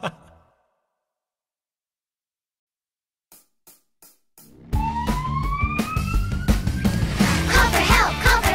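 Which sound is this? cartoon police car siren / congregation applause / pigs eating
cartoon police car siren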